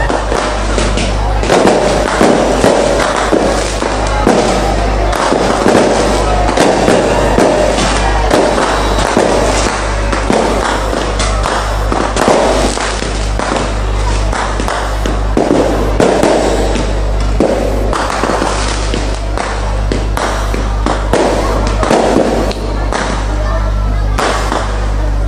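Firecrackers going off in a long, dense barrage of sharp cracks and bangs, loud and continuous throughout, with a steady low hum underneath and faint voices mixed in.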